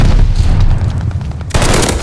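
Rapid gunfire in a video game firefight over a hard point objective, dense overlapping shots and booms throughout, with a sharp louder burst of fire near the end, close and loud.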